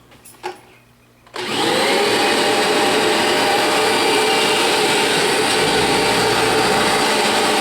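A Kirby G5 vacuum cleaner switches on after a moment of faint clatter, then runs with a loud, steady, full-bodied roar and whine that holds unchanged to the end.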